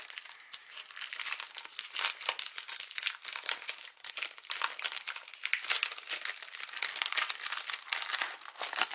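Craft paper rustles and crinkles steadily as sheets from a Studio Calico haul are handled up close, a continuous dense crackle with brief louder crunches and no talking.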